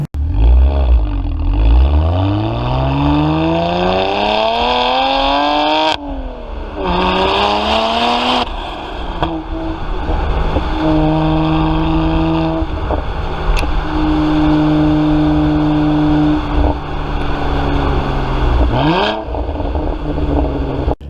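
A BMW 1M with the N54 engine is driven hard, heard from inside, its engine revving up and down through several gears with rising and falling pitch, loud and continuous without talk.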